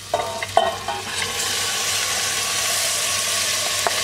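Tomato goes into caramelized onions frying in a pan for shakshuka, bringing a loud, steady sizzle with a few scraping stirs and clacks near the start.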